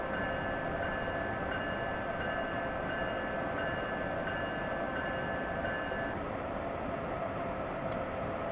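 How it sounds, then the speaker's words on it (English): Steady rumble of a rolling passenger train in Train Simulator 2021 on the Northeast Corridor between Washington and Baltimore, with a faint sustained tone above it, slowing to a stop; continuous and moderately loud, no voices. "I'm going to try to stop the train a little bit short here"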